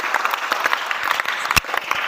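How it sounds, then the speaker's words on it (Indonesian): A class audience applauds for a student in a school lesson, with dense, close, fairly loud clapping that holds steadily for a couple of seconds with a few sharper individual claps. "tepuk tangan dulu dong untuk Donita"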